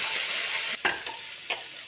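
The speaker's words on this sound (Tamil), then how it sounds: "இதை இப்போது ஒரு கடாயில் போட்டு நல்லா வதக்கணும்" Pirandai, the adamant creeper, is sautéed in a kadai with a loud continuous close hiss, interrupted by a couple of sharp scraping stirs.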